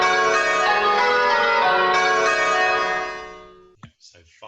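Church bells ringing a change, the fifth bell leading and the treble at the back, a dense ringing wash of overlapping tones that decays over about four seconds, followed by brief faint sounds.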